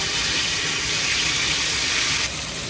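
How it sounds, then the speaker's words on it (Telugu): Water runs steadily from a kitchen tap during prawn fry preparation, a loud, close, continuous gush that drops slightly in level near the end. "వాటర్,"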